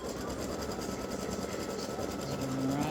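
An embroidery machine stitches free-standing lace for a Christmas tree earring and gift tag set, giving a steady, continuous mechanical whir with fast needle pulses at a constant level, close to the microphone, with no talking.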